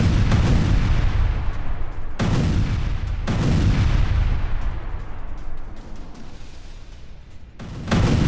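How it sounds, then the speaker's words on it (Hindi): Heavy bombardment in Gaza rolls on as dense, continuous rumbling with several sharp booming blasts at intervals, loud and distant-sounding, with no speech over it. "अभी अभी गाजा में भीषण बमबारी हुई है"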